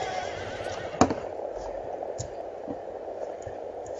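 Horses of mounted archers on a Rome: Total War battlefield, a steady distant din of hooves and battle noise with one sharp whinny-like burst near the start, no speech over it.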